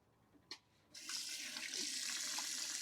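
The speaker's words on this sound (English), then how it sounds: "I was washing my hands" A faucet at a campsite sink is turned on while someone washes their hands, bringing a brief clunk and then a steady stream of running water that stays soft and close.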